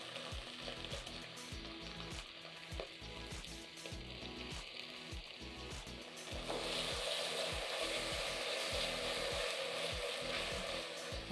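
Tomato sauce for chips masala sizzling and frying in a pan, a dense continuous crackle with occasional stirring scrapes, growing louder and brighter partway through, heard close on its own.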